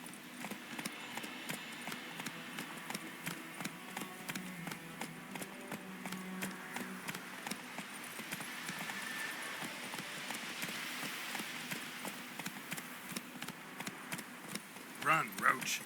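Roach, a horse in The Witcher 3, gallops in a steady drumming rhythm of hoofbeats. A dialogue voice runs over the hoofbeats, and a brief sharper accent sounds near the end.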